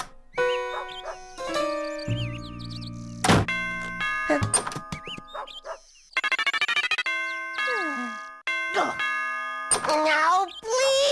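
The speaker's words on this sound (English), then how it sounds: "he hears the doorbell ring." Doorbell chimes in an Ed, Edd n Eddy cartoon, a bright ding-dong ringing several times in quick bursts between musical stings and cartoon voices.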